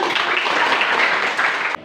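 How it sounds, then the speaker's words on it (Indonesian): A classroom full of people applauds steadily for about two seconds, a dense wash of clapping that cuts off abruptly at the end. "Bagus sekali, tepuk tangan."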